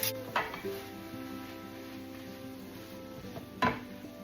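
Cabbage beef soup with thyme being stirred in a pot, with a few spoon-on-metal clinks and scrapes at the start and again near the end over a low steady simmer hum, no talking.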